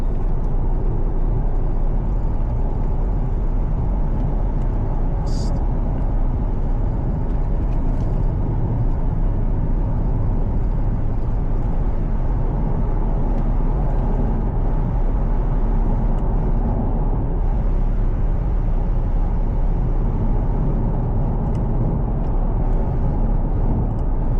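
Cabin view of a Jaguar XF X250 3.0D Portfolio diesel saloon pulling away at moderate throttle, a steady low engine drone and road roar that holds evenly throughout, with no talking.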